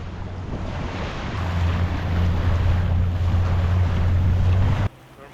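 A Zodiac inflatable boat racing through icy water among icebergs, a loud continuous engine drone with rushing water and wind buffeting the microphone, then cutting off abruptly near the end.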